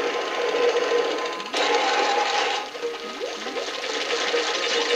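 Water draining away in the Crash Bandicoot Warped video game, a steady broadband rush like a flushing toilet with a sharp splashy onset partway through and small chirpy game effects over it, no talking.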